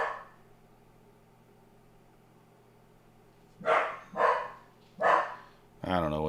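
Indoors, a dog barks three times in quick succession, loud and near, after a quiet stretch; a voice starts speaking right at the end.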